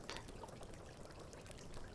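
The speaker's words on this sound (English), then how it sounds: "that is indeed water trickling out of the wall" Faint, steady trickling of water seeping out of a wall runs continuously, a soft splashy hiss with small drips, fairly quiet and close.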